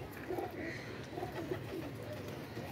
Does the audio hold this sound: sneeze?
no